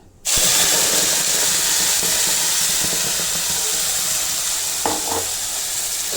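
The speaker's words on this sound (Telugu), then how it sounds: "ఆయిల్లో మనకి చక్కగా ఎర్రగా వేగాలండి బాగా" Tomato, onion, ginger and garlic paste fry in hot oil for a mealmaker curry, a loud, steady sizzle starting abruptly and hissing on without pause, with a faint clink of stirring near the end.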